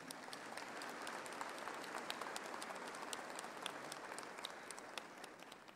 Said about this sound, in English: a warm round of applause to Professor Stander.